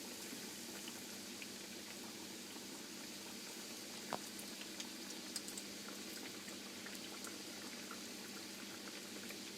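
Frozen Portuguese salmon rissoles deep frying in oil, a faint, even bubbling hiss that holds steady with a few small pops and taps, no talking.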